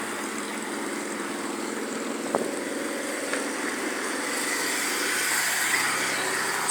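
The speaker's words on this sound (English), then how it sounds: "All this traffic." Steady street traffic passing near a beach, a continuous broad hum of vehicles with a couple of faint bumps and no speech.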